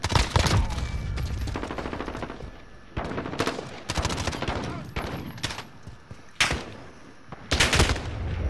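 Bursts of automatic gunfire from bots in the video game Modern Warfare, several sharp rapid volleys separated by short gaps, loud and close.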